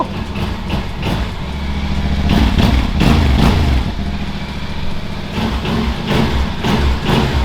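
A motorcycle engine runs loud and close, idling with a rough, steady low rumble and swelling slightly in gentle revs before settling back.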